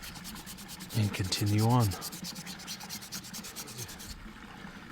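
Pipestone jewelry piece being hand-sanded down to fine 800 grit: a quiet, rapid rhythmic rubbing scratch repeating steadily, with a brief spoken phrase partway through.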